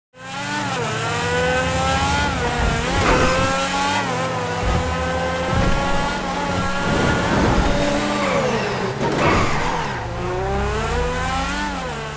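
A supercar's high-revving engine in GTA Online roars continuously, its pitch climbing and dropping through quick gear changes, loud and close, with a racing, synthetic edge.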